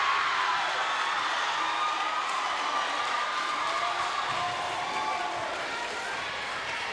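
A small crowd in a gym cheers loudly at a high school girls volleyball match, a sustained roar of voices and shouts with an announcer talking over it.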